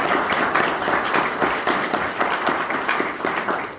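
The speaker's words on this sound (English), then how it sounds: "She deserves a major round of applause." Applause from a dinner audience at a Logan County Democrats event, a steady wash of many hands clapping close and fairly loud for nearly four seconds, with faint voices mixed in.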